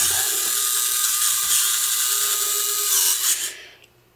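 Electric retract landing gear on an F550 alloy multirotor lowering, a high-pitched whirring servo motor running steadily for about three seconds before winding down to a stop, close and loud.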